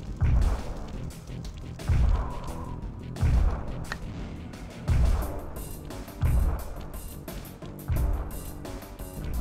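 Explosions in the Sly Cooper video game land as a run of heavy booming thuds, roughly six of them at regular intervals of about a second and a half, each with a deep low thump over steady game background noise.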